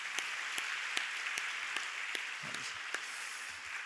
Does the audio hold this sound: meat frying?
no